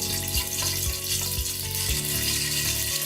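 Cardamom pods and cloves sizzle steadily in hot oil for a beef curry, a dense, continuous frying crackle with a few soft stirring bumps, close and fairly loud with no talk.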